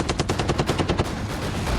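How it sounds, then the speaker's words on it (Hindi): Rapid bursts of machine-gun fire rattle loud and close during a joint India-US army field exercise, a dense string of quick shots over the first second giving way to a sustained roar of gunfire and shelling. "ताबड़तोड़ गोलियां और आग बरसाते गोले नजर आए"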